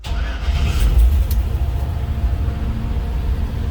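An old 1939 Dodge TF37 pickup truck engine cranks by push-button start and catches, settling into a loud, steady low rumble that fills the whole moment.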